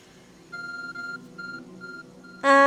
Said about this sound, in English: And I guess our ARC phone is also beeping